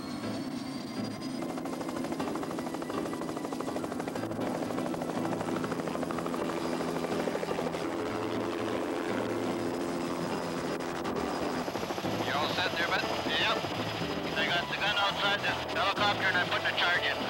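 A helicopter used for wildlife management in Wells Gray Park roars continuously nearby, its rotor chopping loudly throughout, with a voice briefly talking over the engine noise.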